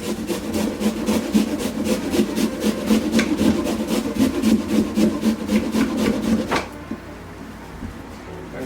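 Carrots are grated by hand for a tuna salad, giving a close, loud, rhythmic rasping scrape in quick repeated strokes that stops abruptly near the end, leaving quieter background.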